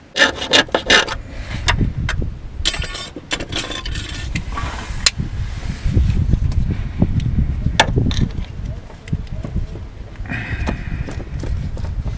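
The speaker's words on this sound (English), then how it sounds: "I've got an oscillating tool where we're gonna just cut this bolt and see what happens" An oscillating tool cuts through a bolt on a worn Subaru WRX STI shifter linkage, making irregular close rasping and grinding bursts with knocks and scrapes between cuts.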